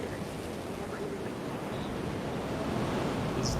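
Sandstorm wind in Jurassic World Evolution 2 roars as a steady, dense broadband rush that stays constant and fairly loud throughout, with no voices.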